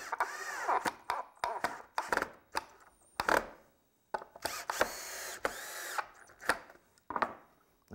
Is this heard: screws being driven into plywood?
yes